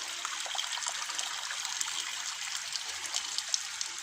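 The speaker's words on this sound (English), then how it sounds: "running water sound." Water runs in a soft, steady trickle at a fairly faint level with a slight splashing texture, uninterrupted and without voices.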